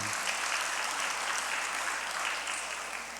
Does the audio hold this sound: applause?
yes